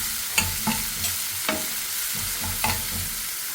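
Onions sizzling in a pan with crushed garlic and ginger, stirred in a few distinct scrapes over a steady low fry, no voices.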